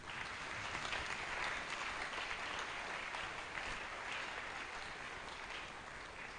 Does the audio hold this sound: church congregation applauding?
yes